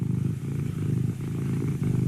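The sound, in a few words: person imitating a cat purring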